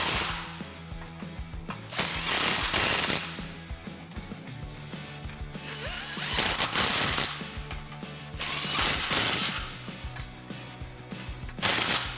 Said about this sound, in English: we're gonna get our clamps tightened up. This utilizes the same 15mm socket